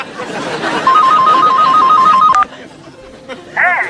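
A telephone rings loudly and close in one sustained burst of repeated electronic trills, then stops, leaving a quieter room with a short chirp near the end.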